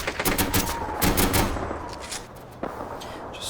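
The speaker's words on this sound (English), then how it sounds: "Suppressing the Germans with Bren gunfire there." Bren machine gun firing in a Men of War battle, rapid bursts of close, loud gunfire that thin out into a few scattered shots and distant reports.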